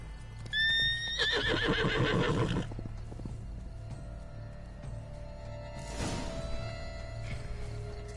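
Roach, the horse from The Witcher 3, gives a loud, close whinny with a rising then falling pitch. Hoof clip-clops follow, and a second, shorter neigh comes a few seconds later over a quiet game background.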